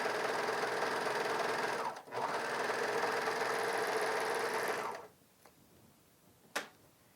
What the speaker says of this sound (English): look how easy that is to have elastic serged on to your fabric